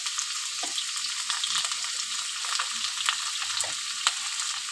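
Potatoes fry in hot oil in a wok with onions, a steady, even sizzle hissing close up without pause and no one speaking.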